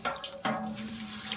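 Water sloshes and swirls in a cooking pot as salt is stirred into the unheated water for boiling green peanuts, a soft continuous liquid churn with a couple of sharper splashy accents.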